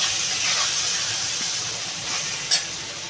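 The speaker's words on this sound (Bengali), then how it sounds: "আমি এবার জল ঢেলে দেবো।" Hot curry pan of elephant foot yam hissing and sizzling as water is poured in, a steady bright spray-like hiss with a short sharper burst near the end, no talk.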